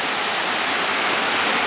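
Rushing white water in a mountain river pours steadily and loudly as a continuous broadband roar, close by with no pauses.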